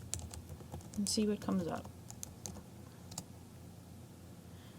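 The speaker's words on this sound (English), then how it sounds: "I'm going to just type in characterization in the search bar" A search term is typed on a computer keyboard into a search bar, with quick close key clicks in short runs under a voice, then a few scattered taps.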